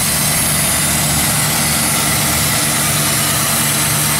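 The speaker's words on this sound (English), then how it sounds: "This 350 engine runs excellent." A 1975 Buick Regal's 350 V8 idles steadily and close up, a continuous even rumble with no talking over it.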